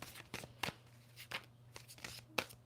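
A tarot card deck is shuffled in several quick riffling bursts, close and fairly quiet, spaced irregularly with short pauses between them and a faint steady hum underneath.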